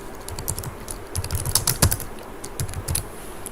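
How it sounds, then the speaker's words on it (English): Steady typing on a computer keyboard while entering employee details for an ID card in Microsoft Word, close and clear, with rapid uneven key clicks and a few louder strokes near the middle. "here I will type some info about employee, about me"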